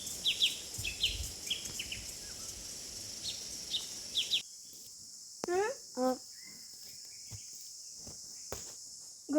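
Crickets buzz steadily by a village river in summer, and scattered bird calls and chirps join later. The background thins abruptly partway through, leaving the bird calls more distinct.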